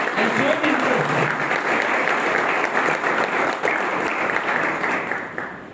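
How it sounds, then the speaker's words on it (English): Audience applause at an International Women Maritime Day event at a girls' maritime academy, a steady, dense round of clapping that holds for several seconds before tapering slightly at the end. "let's give a round of applause for these women, for this young youth who have come here and shown interest."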